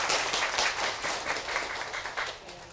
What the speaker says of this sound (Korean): 우리 조교들에게도 뜨거운 박수 부탁드립니다